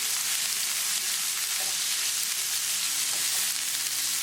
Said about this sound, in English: Cook onion for 3 minutes.